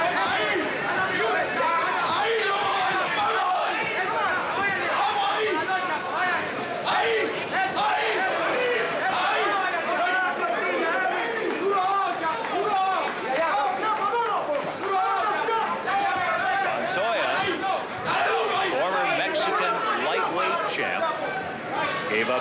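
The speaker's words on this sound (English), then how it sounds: "The crowd waiting to explode." A packed boxing arena crowd at a lightweight bout murmurs and chatters steadily throughout, a dense, loud, continuous babble of many voices with no single voice standing out.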